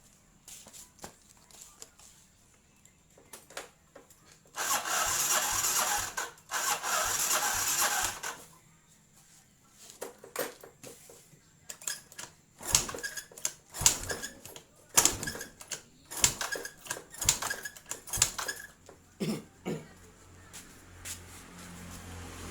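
A Yamaha Mio scooter with no compression being cranked to start, bursts of rapid mechanical clattering from the starter and engine that never catch, separated by quiet gaps and scattered clicks and knocks.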